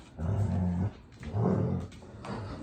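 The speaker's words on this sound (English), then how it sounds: "I know they sound vicious, but they're just tug-of-warring." Two dogs growling and snarling while playing tug-of-war, with two long loud bursts of rumbling growls separated by a short pause, close by with no speech.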